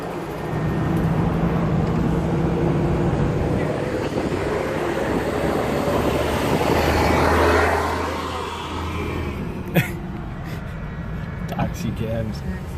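A 2012 Chevy Volt engine running after an AMSOIL engine flush, a steady low hum heard close with wind-like rushing noise, fading slightly near the end before a few sharp clicks.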